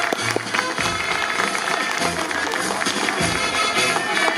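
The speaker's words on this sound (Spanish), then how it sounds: "A ver, papitos, esos aplausos para nuestra escolta." Parents in a crowd at a school event applaud the school escort team, a dense, steady wash of clapping with some bustle and faint talk throughout.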